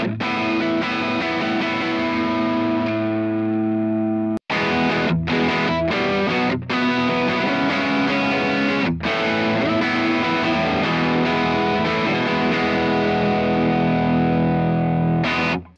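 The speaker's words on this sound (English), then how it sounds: "here's the radial now that I just reached over and turned up the input gain" Distorted electric guitar, fed through a Radial DI box with its input gain turned up, plays sustained chords and short choppy stabs with brief gaps. The tone is loud, gritty and heavily effected, and it rings out alone.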